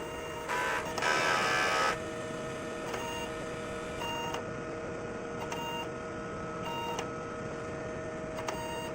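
A DTF printer runs a head cleaning cycle: a steady mechanical hum with repeated short whirring bursts and tonal motor whines at intervals, fairly close and without speech.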